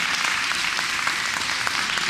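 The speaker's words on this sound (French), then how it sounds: "Camille, on peut l'applaudir" A crowd at a youth running-race award ceremony in Ferrette claps steadily and evenly for a second-place finisher, continuous dense applause throughout.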